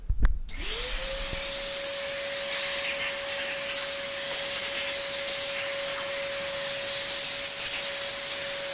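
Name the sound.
vacuum cleaner cleaning dust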